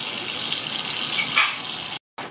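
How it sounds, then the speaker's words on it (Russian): Steady rushing water from a tap as rice is rinsed fills the clip before cutting out briefly near the end. "Промываем рис."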